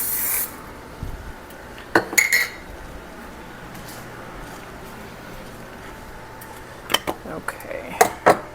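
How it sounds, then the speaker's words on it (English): A spray can gives a short, hissing burst into a measuring cup in a kitchen while barbecue sauce is being made. Scattered light clinks and rubbing sounds of cookware follow. "I am going to spray this, so hopefully it comes out."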